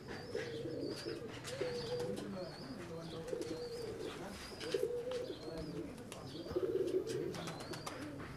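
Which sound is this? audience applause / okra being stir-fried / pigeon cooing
pigeon cooing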